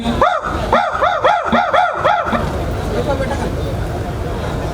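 A mimicry artist voices a Warangal dog's barking as a quick run of about seven sharp, evenly spaced yapping barks, close and loud, then crowd chatter and murmuring carry on alone.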